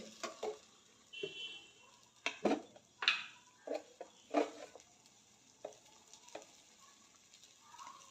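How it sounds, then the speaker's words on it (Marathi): Sweet corn paratha filling sautéing in oil in a pan, faint crackling sizzle with scattered sharp ticks and scraping stirs at an irregular pace, quiet and close. "तर हे चांगलं परतून घेऊया तेलामध्ये त्यातील ओलसरपणा कमी होईपर्यंत परतून घेऊया"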